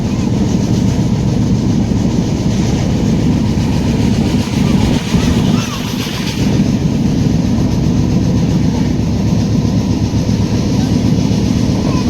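The Tamralipta Express (12857) runs on after leaving Tamluk on the way to Digha, heard from inside the train as a loud, steady rumble with continuous rhythmic wheel clatter on the rails.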